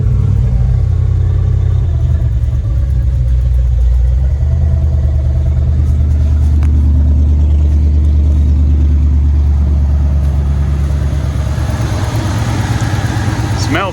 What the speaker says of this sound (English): I don't want to run it too awfully long until I get some fresher gas in it